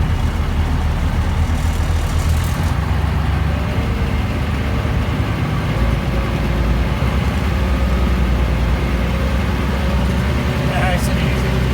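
Heavy M756A2 military pipeline truck engine droning steadily in low gear down a steep road, a loud, constant low rumble with no letup.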